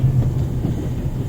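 A brief, steady low rumble of a moving train carriage in The Raven adventure game, constant and muffled with no other sounds.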